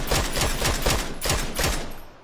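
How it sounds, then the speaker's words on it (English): Rapid gunfire in the battle royale game PUBG: several quick bursts of automatic shots in close succession, loud and dense, with a brief pause before the final burst trails off. "Somebody else is shooting at you."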